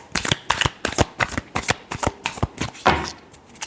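A deck of tarot cards being shuffled by hand, a quick run of crisp riffling flutters and taps in close, loud succession with no speech.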